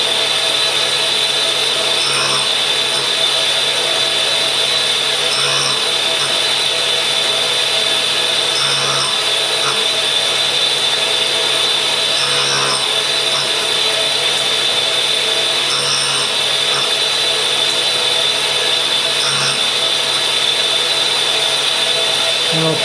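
A power grinder sharpens a cutter with a loud, steady whine that swells in regular pulses every few seconds, running alone without talk.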